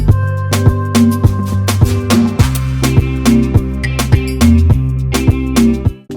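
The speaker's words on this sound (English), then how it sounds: "you'll be able to make an Afrobeat that sounds like this." Afrobeat instrumental built in FL Studio: punchy kicks, crisp percussion hits and a bouncy bass-and-synth groove looping steadily throughout, with no vocals.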